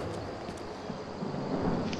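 Thunder rolls during a lightning storm in the horror game Outlast, a continuous low, heavy rumble that holds steady and builds slightly toward the end, with no voices.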